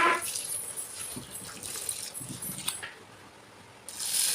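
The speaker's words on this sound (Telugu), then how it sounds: "మినపగుండ్లు 1 కప్పు తీసుకొని వీటిని ఒక 2 లేదా 3 సార్లు శుభ్రంగా కడుక్కోవాలండి" Urad dal and sorghum being rinsed by hand in a bowl of water, with soft sloshing and trickling and a louder pour or splash at the end, close and unaccompanied by speech.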